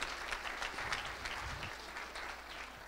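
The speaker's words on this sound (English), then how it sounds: "Let's give a round of applause for Photo Hive." An audience at a Shark Tank–style entrepreneur pitch night claps for a pitch team, a moderate round of dense applause from a modest crowd, fairly close and steady.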